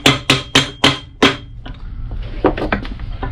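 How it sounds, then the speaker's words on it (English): A hammer strikes a leather shoe sole during a resoling repair on a Berluti shoe, five sharp, evenly spaced blows close by, followed by a few lighter, quicker taps and handling noise. "just finish hammering this up."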